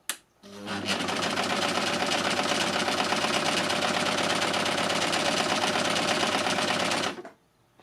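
A Lucie overlocker by Success runs a hem stitch in one continuous stretch of about six seconds, its fast steady chatter loud and close, starting and stopping abruptly.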